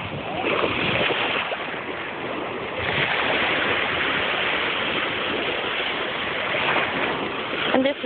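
Ocean waves at Fort Lauderdale Beach, a continuous loud wash of surf and wind noise rolling steadily throughout with slight surges, no voices.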